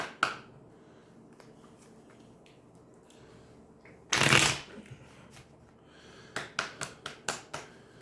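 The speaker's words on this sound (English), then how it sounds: "I'm going to give the deck a couple shuffles" A tarot card deck is shuffled close by: one loud riffling burst, then a quick run of sharp card snaps and taps, with quiet rustling before.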